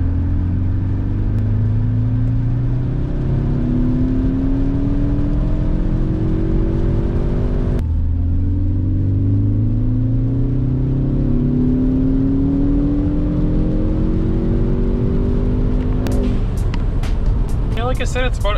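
A Ford Focus ST engine with its resonator deleted revs steadily in third gear, pitch rising, then drops and climbs again before a few sharp clicks near the end.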